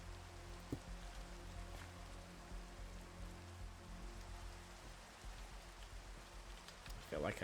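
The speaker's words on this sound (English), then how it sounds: "Let's get rid of this rain." Rain falls in the game Minecraft as a soft, steady patter under faint game ambience, with a few brief clicks and a short burst near the end. The sound is quiet and continuous, with no talk.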